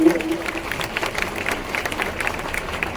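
Applause from an audience at an Independence Day celebration event, a steady patter of clapping across the whole stretch with a brief voice at the start.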